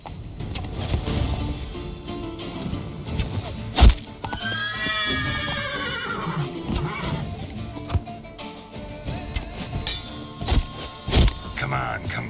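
Horse in the video game Witcher 3 gives a loud rising-and-falling whinny midway, with galloping hoof thuds and scattered thumps around it, while combat voices and game sounds run underneath.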